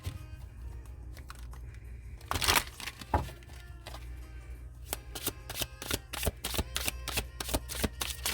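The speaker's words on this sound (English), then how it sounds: "I want to shuffle the cards" Tarot cards being shuffled by hand, starting with soft scattered handling and a brief riffle, then settling into a steady run of crisp, close bridging snaps and flutters repeating about twice a second, with no talk.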